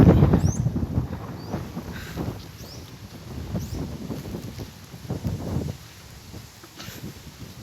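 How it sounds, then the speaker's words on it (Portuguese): Strong wind in the treetops at Canes, Bahia, comes as gusty, rumbling surges that swell and fade, with buffeting against the microphone and no voices. "o vento na copa das árvores ali."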